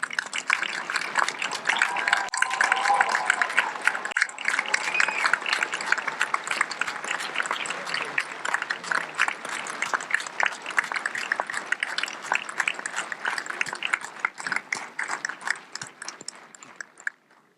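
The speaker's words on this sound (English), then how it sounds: "Let's give them a round of applause." Audience at a graduation ceremony applauding, a long, steady roar of clapping that stays dense for most of the stretch before thinning out and fading at the end.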